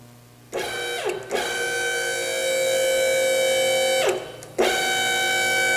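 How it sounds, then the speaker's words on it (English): A vehicle hoist in a workshop hums loudly as it lifts, with its motor tone briefly cutting out and restarting twice, including a click as it engages the first safety lock. "That click was the first safety lock."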